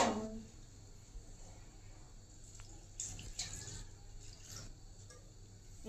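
Water trickles and splashes softly over gongura leaves in a vessel, a faint, continuous pour with a few small clinks, heard close but at low volume.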